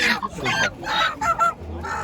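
Several chickens cluck and squawk close by in short, uneven bursts, with a faint low voice underneath near the end.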